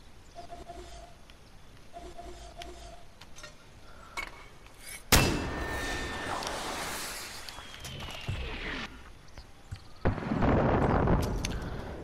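A mortar in the video game Far Cry 4 fires with a sudden loud blast partway through, followed by a long whistling sweep and a second heavy burst later, over quiet outdoor game ambience with faint bird chirps.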